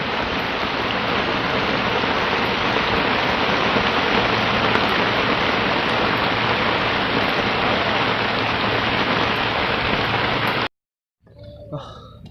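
Steady heavy rain falls at a fishing pond in Thailand, a dense unbroken wash of hiss for about ten seconds before it cuts off abruptly, followed by faint quieter ambience.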